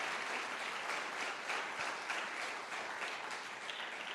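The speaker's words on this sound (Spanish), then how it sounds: "Dale un aplauso al Señor." A church congregation claps together during a sermon, producing a steady, even wash of applause that holds for the full four seconds at moderate distance, with no voices rising above it.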